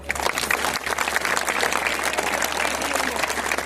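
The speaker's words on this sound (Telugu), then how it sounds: "ఇప్పుడు కొట్టండి చప్పట్లు" An audience at a Hindu gathering claps in loud, dense applause that continues steadily with no pause, with a low hum from the hall's sound system underneath.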